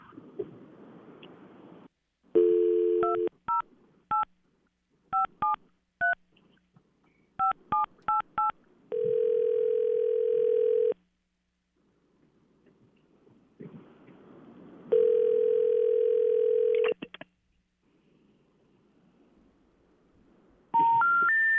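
Telephone keypad tones beep in quick clusters, with steady held dial or signal tones between them, followed by more dialing. The line is otherwise quiet except for faint background hiss.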